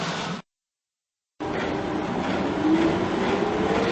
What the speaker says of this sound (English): So we'll wait for the next train